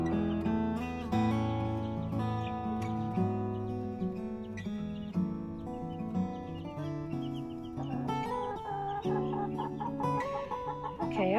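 Chickens settled in the nesting boxes of a coop cluck and croon in a steady, overlapping murmur, close and continuous, with a few sharper calls toward the end.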